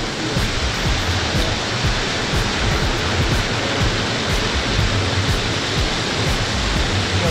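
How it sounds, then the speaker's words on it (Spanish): A waterfall in Gambita, Santander, Colombia roars loudly and steadily, a dense, unbroken rush of falling water heard up close with no voices. "Vean esa caída de agua allá."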